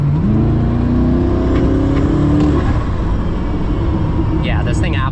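A Koenigsegg Regera hypercar running on 91 fuel accelerates hard from inside the cabin, its engine tone climbing steadily then levelling off, loud and close, with a voice talking over it.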